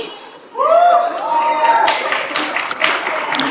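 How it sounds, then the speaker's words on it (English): Audience clapping at a university journalism convocation ceremony, a steady scatter of hand claps building after a brief pause and continuing throughout, with a voice rising over the start. "Guys, come on, clap for everybody."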